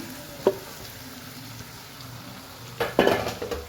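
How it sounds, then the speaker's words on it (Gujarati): A spoon scrapes and stirs boiled potatoes into masala dosa filling in a pan, giving a single clink early and then a longer burst of scraping and clatter over a soft background sizzle. "હવે બાફેલા બટાકા સાથે સાથે એડ કરી લઈએ"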